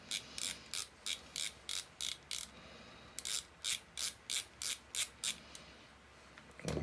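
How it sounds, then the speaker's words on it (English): Screwdriver backing screws out of a First Strike Roscoe paintball pistol: two bursts of short, regular clicking turns, quiet and close, separated by a brief pause, with no voices. "you're going to grab your 2 larger tipped screwdriver bits, or screwdrivers, and start removing the screws."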